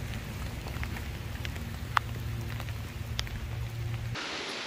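Steady rain falling outdoors, a continuous soft patter and hiss with a few sharper drops landing nearby, heard on its own before cutting off near the end.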